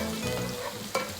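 Onions and garlic sautéing and being stirred in a pan for fish masala, a steady close sizzle with scraping stirs and one sharper clank near the end.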